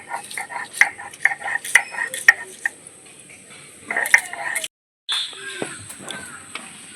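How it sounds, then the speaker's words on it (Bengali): Garlic cloves being ground into a paste for biryani, with repeated sharp scraping and knocking strokes of stone or pestle in an irregular rhythm, fairly close and loud, with a brief pause before the grinding resumes. "এখানে রসুনটা আমি বেটে নেবো"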